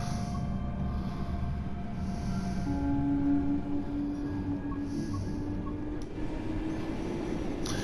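A train in Train Sim World 4 rolls along with a steady low rumble of wheels on track and a faint whine that rises partway through, continuous and fairly close with no talking.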